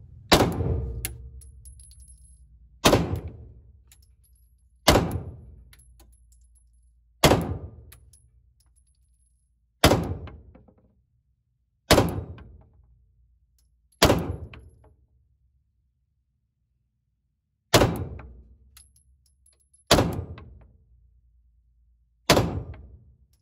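Ten sharp gunshots from a handgun during a shooting test at 7 metres, each a loud crack with a decaying echo, spaced irregularly about two to three seconds apart with no talking.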